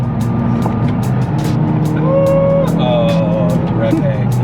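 A Honda Civic Si engine revs loud and close, its pitch rising and then hanging before falling slowly, with tire and road noise running steadily underneath.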